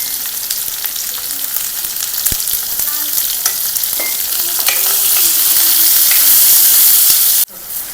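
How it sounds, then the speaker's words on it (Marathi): Chopped onion sizzles in hot oil with a pinch of turmeric, a loud, close frying hiss with intermittent stirring clicks that swells toward the end before cutting off sharply. "मी कापून घेतलेला हा कांदा तेलामध्ये टाकून घेतला, आणि हा छान परतून घ्यायचा"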